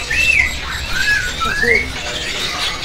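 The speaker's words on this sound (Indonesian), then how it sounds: "nah ini penampakan untuk burung poksai hongkong yang pipi hitam gacor ya" A caged black-cheeked Hongkong poksai laughingthrush at a Pramuka bird market sings clear, loud sliding whistles and short squawky phrases over a busy, noisy background.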